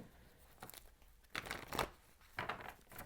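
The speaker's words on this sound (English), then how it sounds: "I did pre-shuffle the decks, but I just want to shuffle them really good." Tarot card decks are shuffled by hand, producing soft, close riffling and papery rustling bursts at irregular intervals, fairly quiet overall.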